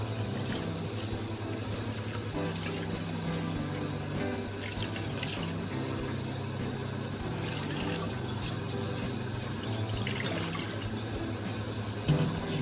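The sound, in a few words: pouring soaked rice and water out to drain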